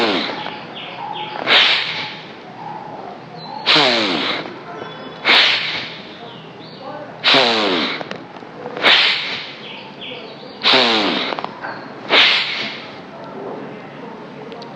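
Bhastrika pranayama, rapid forceful bellows breathing: loud, close bursts of breath repeating roughly every one and a half to two seconds, each with a sharp forceful attack and no talking.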